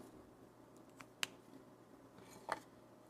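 Scissors cut an underglaze decal for pottery in a quiet room, giving two crisp, faint snips about a second apart. The snips stand out against light background hiss.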